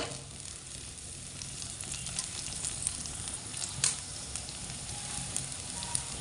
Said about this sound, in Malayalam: പച്ചമുളകിൻ്റെ പച്ചമണം ഒന്ന് മാറി വരുന്നത് വരെ ഒന്ന് ഇളക്കി കൊടുക്കുക